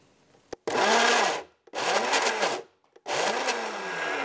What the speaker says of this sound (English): Press the pulse button until all the eggs have been chopped.